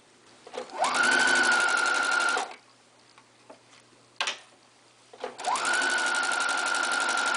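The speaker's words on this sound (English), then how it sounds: "you're going to stitch along the inner edge right along here of this fold" A sewing machine stitches along the folded armhole edge of a pillowcase dress in two loud, close bursts of rapid whirring, separated by a pause with small clicks as the fabric is adjusted.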